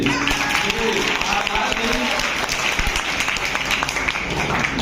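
Audience applause for a teacher at a Teachers' Day honour ceremony in an intermediate college hall, a steady wash of clapping from a crowd throughout, with some voices faintly mixed in.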